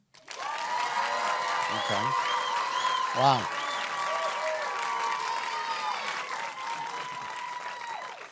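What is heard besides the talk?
studio audience applause for Mayor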